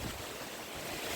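Storm-strength wind blows outdoors where someone is cooking in the open, a constant dense rushing roar with buffeting against the microphone, loud and unbroken for the whole moment.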